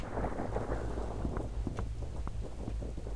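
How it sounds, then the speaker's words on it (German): Thunder from lightning in the video game Vernon's Legacy rumbles low and steady under a wash of rain, with a few faint crackles breaking through the continuous storm noise. "Voilà, der Blitz."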